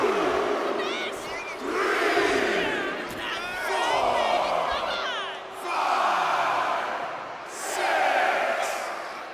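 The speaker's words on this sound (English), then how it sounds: "And Michelle McCool is firing up the crowd here." A wrestling-game crowd in WWE 2K25 roars and chants in swelling waves, loud and continuous, with rising and falling cheers and whistles filling the arena.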